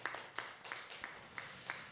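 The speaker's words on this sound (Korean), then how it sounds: "주께 영광의 박수 올리겠습니다." Slow, evenly spaced claps, about six over two seconds, from a church congregation at a Wednesday prayer service, sounding sparse and fairly faint.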